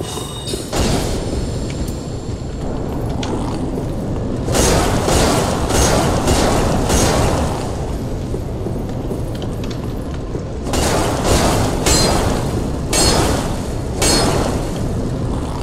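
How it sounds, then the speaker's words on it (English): Breakable box bursting apart in Dark Souls 3, heard as several heavy booming crashes with crumbling debris, separated by quieter stretches of game ambience, loud and near with no speech. "Explode this box."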